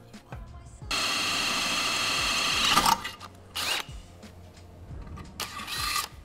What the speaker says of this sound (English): drill them out with a quarter inch drill bit